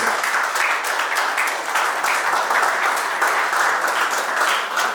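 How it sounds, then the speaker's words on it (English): Audience applause at a short film festival awards ceremony, a dense steady wash of many hands clapping at even loudness for the whole stretch, with no voices over it. "Let's give a round of applause."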